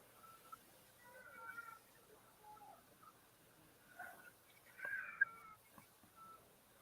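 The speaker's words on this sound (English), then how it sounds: "Is that your cat going crazy there?" A neighbour's cat meows faintly and at a distance, several short wailing calls scattered through quiet room ambience, with no one speaking over it.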